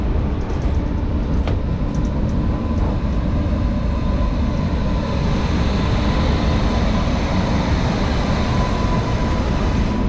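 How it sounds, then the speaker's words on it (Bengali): The Kanchenjunga Express, a passenger train on the Sealdah–Silchar route, roars past nearby as a loud, continuous rumble of wheels and carriages, steady throughout with no talk. "কাঞ্চনজঙ্ঘা এক্সপ্রেস যাচ্ছে"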